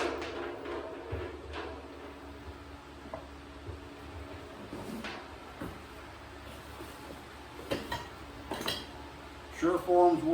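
Metal rasps for carving plaster clink and clatter as they are handled, scattered close metallic knocks over a low steady hum, with a cluster of sharper clinks at the end.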